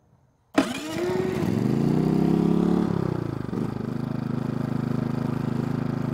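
Brand-new fuel-injected GM4600iAEFIC inverter generator cranks with a sharp start at about half a second, revs up loudly, then drops to a steady, smooth, close-up idle hum that continues to the end without talk.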